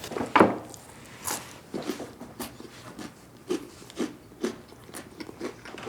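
Someone eating a bowl of cereal in a film scene: crunchy bites and chewing, a sharp first crunch followed by a series of softer irregular crunches, close and fairly quiet, with no talk.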